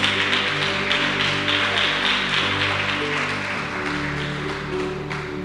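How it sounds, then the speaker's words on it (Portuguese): A church congregation applauds during a sermon in a worship service, a dense and steady wash of many hands clapping over sustained organ-like music tones. "pode aplaudir o Senhor"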